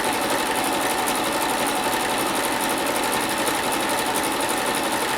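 A sewing machine stitching quilting fabric runs steadily and loudly throughout, a continuous fast mechanical whir with no pauses.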